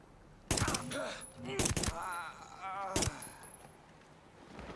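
Pistol shots from the tactical shooter game Ghost Recon Breakpoint, a few sharp cracks spaced apart, loud and close, with a voice talking between them.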